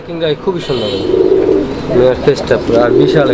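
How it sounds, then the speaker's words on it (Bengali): A pair of pigeons coo repeatedly at close range, their deep, rolling calls coming in loud overlapping bursts, with someone talking alongside. "এখানে আরও এক জোড়া কবুতর এই যে ডাকতেছে ওটা আপনারা দেখতে পাচ্ছেন"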